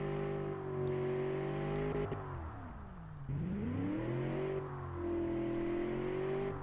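A low-powered turbocharged car engine in the Automation car tycoon game burbles and revs steadily. The pitch dips sharply mid-clip, then climbs back up, loud and continuous with no talking.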